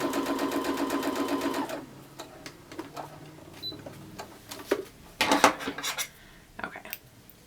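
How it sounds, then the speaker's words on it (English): A sewing machine stitches a quarter-inch quilting seam in a fast, even rattling burst of under two seconds, followed by quiet handling clicks and fabric rustles, with another short clattering run later. "we're going to sew it regular 1/4 inch seam allowance, just like we always do with everything"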